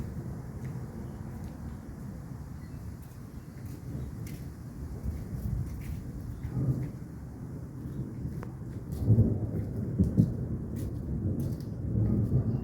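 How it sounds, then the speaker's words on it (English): Low rolling thunder from an approaching storm, a faint continuous distant rumble that swells a few times, heard outdoors with no talk over it. "We're gonna have a storm."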